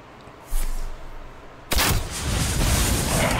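Two booming gunshot-like blasts mark a Flanking Strike card firing in Hearthstone, the first a short sharp crack and the second a louder burst followed by a rumbling tail.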